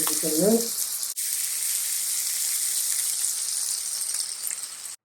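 Steady, bright sizzle of tuna frying in hot oil, loud and close, running almost the whole time after a brief voice at the start.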